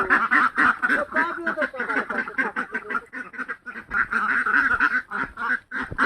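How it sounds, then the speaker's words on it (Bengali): Ducks quack repeatedly in a busy, overlapping chorus, close and fairly loud, continuing throughout, while being herded in morning rain. "এখন হাঁস তাড়াচ্ছে"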